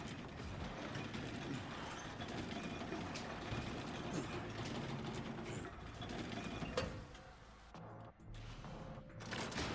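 A rusty crank turning in Resident Evil Requiem gives a sustained grinding, ratcheting mechanical churn with clicking gear-like texture, fairly loud and steady, thinning out near the end.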